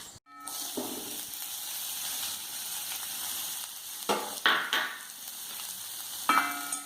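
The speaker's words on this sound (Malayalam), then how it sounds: "ഇനി നമുക്ക് ഈ സവോളയും പച്ചമുളകും കൂട്ടിയിട്ട് ഒന്ന് വഴറ്റിയെടുക്കാം" Chopped onion and green chillies sautéing in a pan, a steady close hiss of frying with a few louder scraping stirs near the end, no voices.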